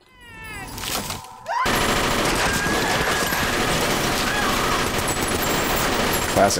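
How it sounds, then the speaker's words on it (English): A Tommy gun fires in a horror film scene: a brief uneven opening gives way to a dense, continuous, loud rattle of rapid shots that runs to the end. "Tommy gun, huh?"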